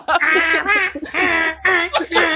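Several people vocally imitate seagulls in a playful pirate role-play, producing loud, warbling, nasal squawks in three or four bursts with brief gaps, layered and close to the microphone.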